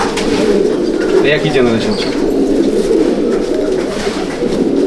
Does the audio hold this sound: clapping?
no